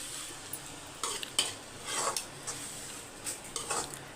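Tomatoes go into a hot pan while cooking prawn thokku, bringing a faint steady sizzle broken by scattered scrapes and clinks of a utensil stirring against the pan, no talking.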